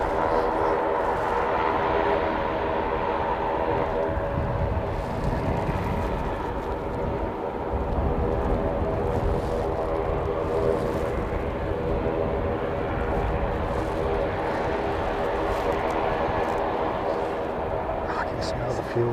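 A Life Flight aircraft takes off at Christchurch International Airport, its engines a steady, loud drone throughout with a continuous roar under occasional talk.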